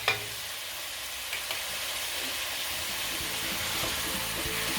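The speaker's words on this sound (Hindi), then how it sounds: "और इसको अच्छी तरह मिक्स कर देंगे।" Chicken pulao with garam masala is stirred in a pot, a continuous soft sizzle and scraping under a steady bed of noise, with a brief knock at the start and no voices.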